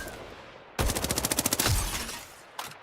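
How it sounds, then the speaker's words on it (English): Rapid burst of automatic gunfire from the Vanguard weapon in the shooter game Highguard, about a dozen sharp evenly spaced shots in quick succession, loud and close, followed by a short pause and one more brief shot. "the Vanguard definitely fires very fast"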